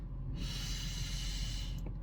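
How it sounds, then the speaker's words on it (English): A deep breath drawn in slowly, one long, close, airy inhale that starts softly, swells steadily and ends abruptly, with no talk. "Let's take a deep breath in."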